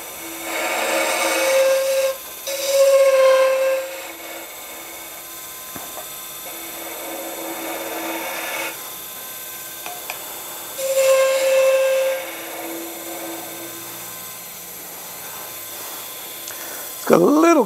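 Negative-rake scraper working resin on a wood lathe, a continuous whirring drone with high whistling, chattering tones that swell and fade in bursts as the tool contacts the spinning piece, close and fairly loud.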